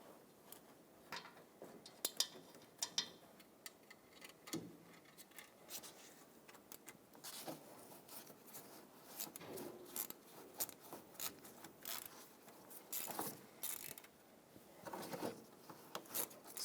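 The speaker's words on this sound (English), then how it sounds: "Now let's reinstall the bolt that holds the shield onto the starter" Faint, scratchy metallic clicks and scraping, like a ratchet working, as the bolt holding the heat shield onto the starter of a 2015-2020 GMC Yukon XL 5.3L V8 is threaded back in, in short irregular bursts with no talking.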